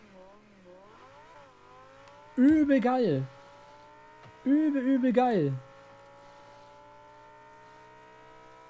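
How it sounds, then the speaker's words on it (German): Lamborghini engine in the Rocket League video game, revving in two loud, rising bursts over a steady engine drone, with a man exclaiming excitedly between them. "jetzt hört euch einfach nur den Lambo Sound an"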